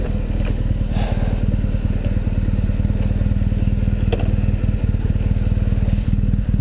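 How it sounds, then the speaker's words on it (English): A BMW HP2 motorcycle engine labors up a rocky off-road hill, a loud, close, rapid thumping exhaust pulse held steady throughout, with scattered scrapes and clatter of stones beneath it. "stand behind an HP2 when it's trying to climb a rocky hill with Chris on the gas"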